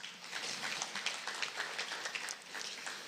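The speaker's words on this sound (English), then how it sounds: "May we give them a round of applause" A seated audience at a government industry and commerce gathering in Zimbabwe gives a brief round of applause, soft and distant, with steady even clapping throughout.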